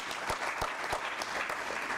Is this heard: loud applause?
yes